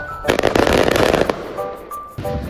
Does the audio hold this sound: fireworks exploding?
yes